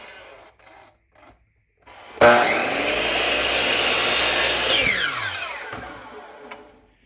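Saw blade slicing through a wooden pen blank for woodturning: after a few faint knocks, the loud cut begins abruptly with a harsh rasping whine, holds for about three seconds, then the pitch drops and the sound fades as the blade spins down.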